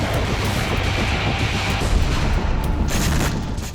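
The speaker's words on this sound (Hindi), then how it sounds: "जोरदार धमाके, मिसाइलों से तबाही और हर तरफ बर्बादी के निशान।" Explosions and missile blasts from the war in Ukraine, a dense, sustained barrage of booming and crackling detonations with a steady rumble throughout, loud and continuous.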